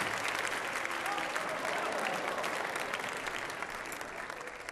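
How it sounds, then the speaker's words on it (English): Sustained audience applause fills a church service setting, a dense, steady wash of many hands clapping at moderate distance, holding even throughout and easing slightly toward the end. "Clap loud for my friends."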